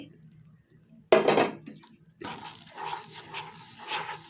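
Powdered poha and fried wheat rava stirred into melted jaggery in a pan for laddu: a quiet pause, then a sudden loud metal clatter, followed by softer spoon scraping and clinks against the pan.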